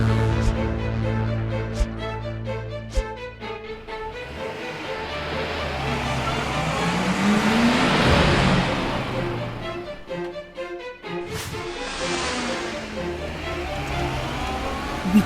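A cartoon monster truck engine roars and revs at a construction site, rising and falling over background music with sharp clanks and a whoosh near the end.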